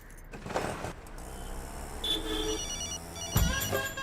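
A phone rings with electronic ringtone chirps in short bursts, heard indoors against faint background noise and occasional soft knocks.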